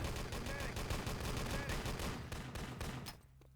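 Rapid gunfire from Wolfenstein: Enemy Territory, a Luger pistol among the shots, in a dense competitive online match; continuous close bursts and overlapping shots pile up loudly, then cut off abruptly near the end.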